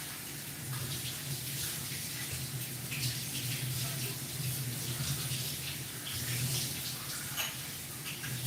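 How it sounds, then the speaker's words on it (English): Water runs steadily from a tap into a basin, a continuous rushing splash filling the whole stretch at an even level, with faint clinks and movement under it. "Here, have some water, Fred."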